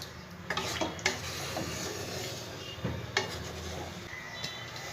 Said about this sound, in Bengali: খুব ভালো করে মশলার সাথে মিশিয়ে দেব জলটাকে।